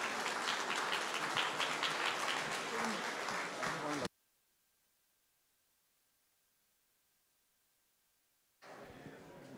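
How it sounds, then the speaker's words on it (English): An audience at a live event breaks into loud, continuous applause for about four seconds, then drops to near silence with a faint steady tone, and the clapping returns briefly at the end. "Give a round of applause for Paul."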